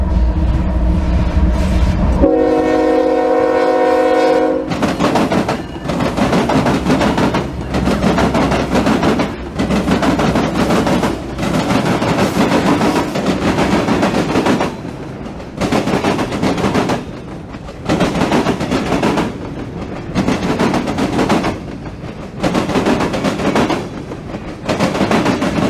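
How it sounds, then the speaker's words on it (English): A mixed freight train rolls past a railfan spot, its heavy rumble and wheel clatter loud and close, with a long sustained horn blast early on, then a steady rhythm of railcars thumping over joints. "This guy gave us a little horn show, so that was pretty cool."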